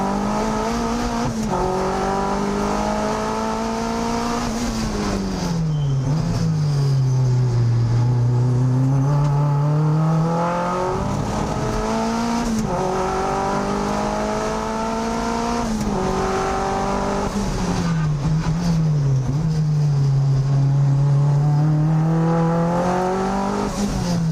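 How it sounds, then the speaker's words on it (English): Mazda MX-5 race car lapping hard at an AusTimeAttack time attack event, its engine loud and close with repeated rising revs, brief lifts and downshifts through corners over about twenty seconds, no talk. "I'm not really holding back too much here, trying to put in as much as I can to get some laps in"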